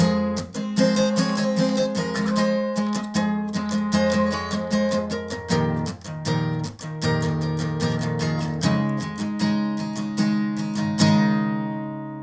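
Electric guitar solo from a song, dense and loud with rapid picked notes in a steady driving rhythm over sustained chords, no talking.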